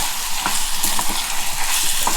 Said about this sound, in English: So you don't want it to burn, so be sure you keep on stirring.